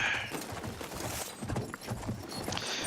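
Horse hooves clip-clop in the video game Battlefield 1, a rapid, busy trotting rhythm mixed with game sounds and a dense background.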